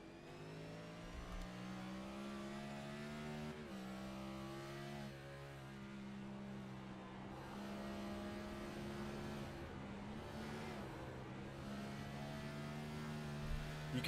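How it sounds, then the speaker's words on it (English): The number 4 race car's engine at Watkins Glen revs hard under throttle, its steady loud drone rising and falling with gear changes and pedal work throughout, heard from on board. "You can hear Guerin there really working that throttle pedal, really lit up those rear tires"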